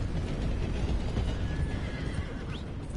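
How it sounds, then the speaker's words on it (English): A white horse in a video game neighs with a drawn-out whinny over clip-clop hooves and a steady outdoor background, fairly faint and without any speech. "This is a nice horse"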